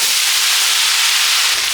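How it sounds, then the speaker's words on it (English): Steady loud hiss of flat rice noodles sizzling in a hot wok, bright and continuous throughout with no talking. "Now we're going to place in our flat rice noodles."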